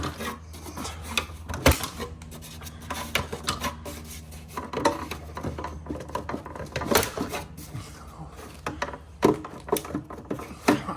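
A plastic wheel cover is pulled off a Tesla Model Y wheel with a run of close scraping, rasping and clicking as it comes loose, with irregular sharp snaps throughout.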